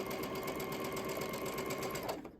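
Sewing machine stitching quilt fabric triangle pieces for a star block, a fast steady mechanical whir and needle chatter that runs evenly, then stops abruptly near the end.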